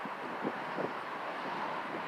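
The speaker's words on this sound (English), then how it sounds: "it's getting a little windy out here" Outdoor wind buffets the microphone in a low, steady rumble with a few soft gusts, faint and with no other sounds.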